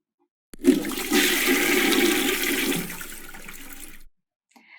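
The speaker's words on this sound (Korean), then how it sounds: "화장실 변기물이 이렇게 내려가는 소리였습니다" A toilet flushes once nearby, a rushing gurgle of water that drains for a few seconds and then stops abruptly.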